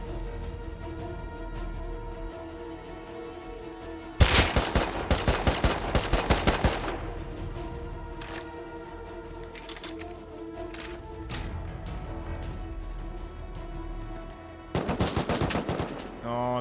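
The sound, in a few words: gunfire in a video game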